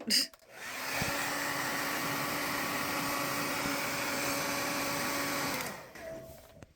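A hair dryer switches on and blows a steady, close whirring rush for about five seconds before cutting off. No one speaks.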